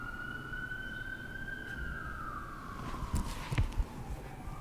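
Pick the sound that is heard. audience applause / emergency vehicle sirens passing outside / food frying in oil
emergency vehicle sirens passing outside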